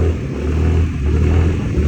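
Engine of a scooter-based pickup auto rickshaw running steadily at night, with a continuous low rumble and slight rises in revs, close and fairly loud with no voices.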